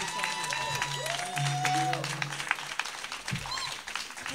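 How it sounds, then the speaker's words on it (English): Audience applause at a reading event, scattered clapping that builds into a fuller round, with faint voices and tonal sounds mixed in at moderate level. "Please give me a powerful round of applause for Marianne Williamson."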